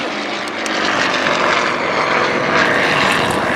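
A two-bladed variable-pitch propeller aircraft flies a slow roll at an airshow, its engine drone loud and steady throughout, with a broad roaring wash and no voices.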